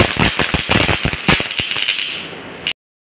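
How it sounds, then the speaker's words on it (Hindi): A rapid string of loud, sharp small firecracker pops crackles close by during Diwali for a few seconds, then stops abruptly. "बस अब आग लगी, अगला चुटपुट बजने जा रहा है भाई।"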